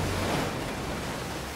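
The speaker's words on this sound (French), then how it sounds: "Mer agitée, les vagues déferlent et les fortes houles secouent votre bateau dans tous les sens." Rough sea waves crash and surge in the fantasy video game For the King, a dense, steady roar of surf and wind that fills the whole stretch without any voices.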